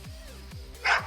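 A young puppy gives a few short, high yips and barks in quick succession, close by and fairly loud, with a sharper yelp at the end.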